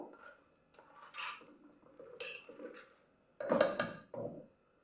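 Pressure-cooked mango seeds are poured through a kitchen strainer to drain the water, giving a short burst of hard clattering and knocking near the end after quieter handling and rubbing noises.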